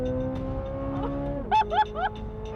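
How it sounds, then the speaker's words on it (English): The flat-plane-crank V8 of a 2023 Chevrolet Corvette C8 Z06 holds a loud, steady high rev, then its pitch drops. Excited voices burst out over the engine near the end. "Oh, it revs so hard!"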